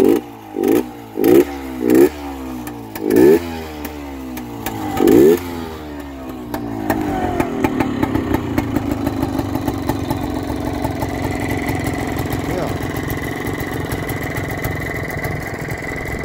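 Vintage Bultaco Alpina 250 motorcycle engine blipped in several sharp revs, then settling into a steady, fairly loud running or riding note outdoors on a mild day.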